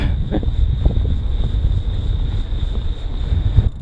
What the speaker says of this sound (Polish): Naprawdę wieje.